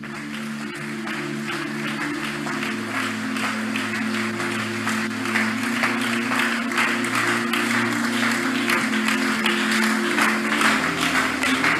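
A church congregation claps steadily and cheers during a Haitian worship service, the dense applause sustained over a low, droning hum of held musical tones.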